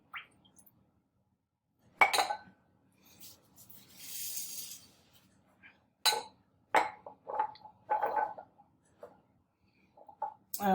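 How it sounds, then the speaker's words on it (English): A glass beaker holding crumbled cracker in liquid is swirled during a general science digestion experiment, giving several light, separate glassy clinks and rubbing sounds with short quiet gaps between them, nearby and fairly soft. "we're going to go ahead and swirl that glass"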